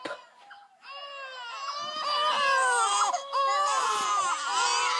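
Babies crying in a video game: a sustained, wavering infant wail that rises and breaks into sobbing bursts, loud and close, with no talk over it.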